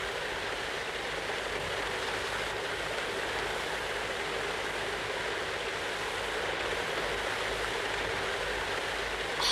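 A river rushes under big rocks toward a cavern in a cartoon scene, a steady, loud wash of flowing water with no break or change.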